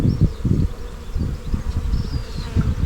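Honey bees buzzing steadily close by while a split-box hive is opened for inspection, a continuous droning hum with louder pulses as the insects move around.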